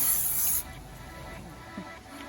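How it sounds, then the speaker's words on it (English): A short burst of cooking spray hisses onto a casserole dish for about half a second, then stops, leaving quiet room noise. "First we spray down the casserole dish."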